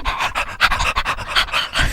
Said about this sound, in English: I'd have 7 or 8 dogs in the bed. Would you? All panting at the same time.